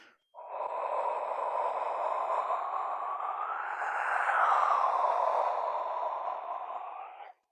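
An indigenous clay whistle blown with a shaped mouthpiece gives a steady, breathy, airy growl like a jaguar, holding for about seven seconds and swelling slightly midway before stopping.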